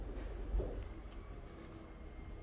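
A dog training whistle gives one short, high, pure blast during an outdoor session with Mabel the dog, standing out clearly against a quiet background.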